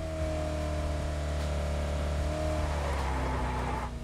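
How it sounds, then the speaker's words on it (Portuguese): Orange two-seat buggy driven in the video game PUBG Mobile, its engine humming steadily and loud throughout with a rising whine, then a rougher skidding texture near the end. "O culpé, no caso, é esse carrinho laranja aqui de dois lugares."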